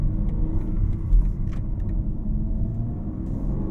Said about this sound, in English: Start by driving the car very casually, just to get a feel for it.